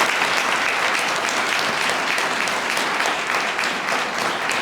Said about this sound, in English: let's give the entire Richmond Police Department a round of applause